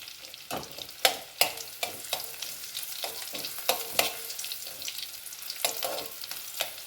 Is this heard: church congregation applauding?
no